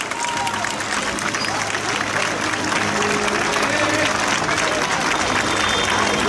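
An outdoor crowd in Kavala applauds the arrival of the Rio 2016 Olympic flame bearer, with warm sustained clapping and a murmur of voices and talk mixed in.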